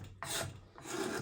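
An old kitchen knife used as a scraper rasps across wood in two short strokes, a close, dry scratching with a brief pause between passes and no talk.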